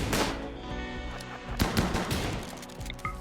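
Shotgun fire in RimWorld, a few sharp, punchy blasts scattered over a few seconds amid other game combat noise, with no voices.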